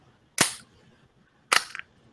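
A pistol is test-fired with a titanium extractor, two sharp, loud shots about a second apart, each ringing briefly before quiet returns, with no talking.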